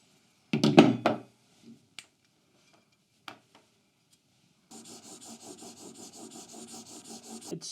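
A chisel is honed on an 8000 grit whetstone. A few scattered scrapes and taps come first, then a steady run of rhythmic back-and-forth rubbing strokes, close and fairly quiet.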